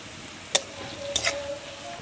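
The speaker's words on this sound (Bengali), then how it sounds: "পেঁয়াজটা ভেজে নেবো, যাতে মুচমুচে হয়" Onions fry in a pan to a crisp as they are stirred. A steady soft sizzling hiss is broken by two brief scraping clinks from the utensil, close by, with no talk.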